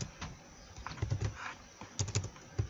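Keys clatter on a computer keyboard in short bursts while a Windows 8.1 PC name is typed, with several quick clusters of taps and brief pauses between them, close and fairly clear with no talk.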